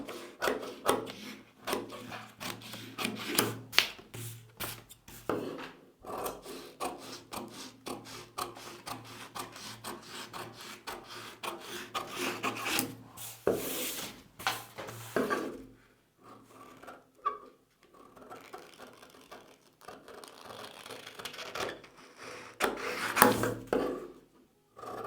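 Scissors cut double katori blouse fabric up close with steady rasping snips and rubbing, then a quieter stretch with occasional handling noises and no speech.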